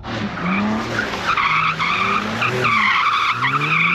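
BMW M2 and M3 CS tyres skid on a skid pan, with loud, wavering squeals that rise and fall over a low engine roar, one sustained slide after another.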